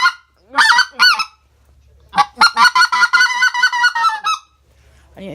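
A hand-blown specklebelly goose call gives loud, high-pitched honks: two separate calls, a pause, then a fast rolling string of clucking yodels, close and alone.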